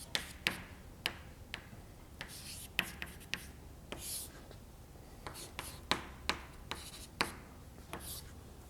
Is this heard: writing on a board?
yes